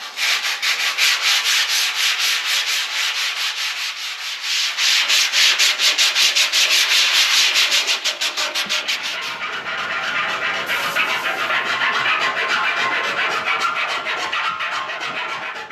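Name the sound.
sanding painted steel barrel with sandpaper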